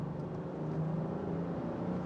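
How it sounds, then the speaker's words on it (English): Petrol engine of a Land Rover Defender 90 P400 running steadily, a continuous low drone with a faint whir, close and even throughout with no one talking. "The petrol engine."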